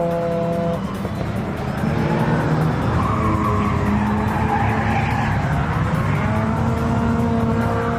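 Cars drift at a Nikko Circuit club drift day, tyres squealing in long sustained wails over steady engine roar, loud and continuous with pitch sweeping as the cars slide past.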